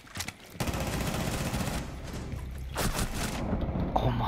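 Sustained rapid gunfire in the tactical shooter Rainbow Six Siege, dense automatic bursts rattling almost continuously for several seconds with a few sharper cracks, loud and close with no talk over it.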